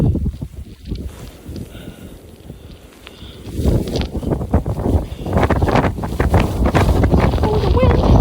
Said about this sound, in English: Oh, the wind! The wind! Oh, look at this. The wind is crazy.